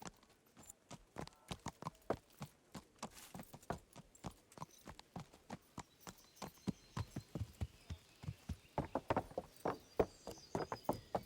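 Steady clip-clop of horse hooves walking at an even rhythm in a video game, moderately close, growing a little busier toward the end.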